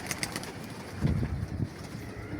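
Pigeons in a loft coo softly, with low, faint, rolling calls close by and a few brief rustles. No one speaks.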